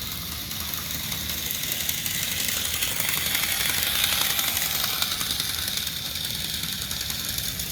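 A Life-Like HO scale 0-4-0 B&O Teakettle model locomotive runs along its track, giving a steady, continuous whir of motor and rail noise close by with no breaks.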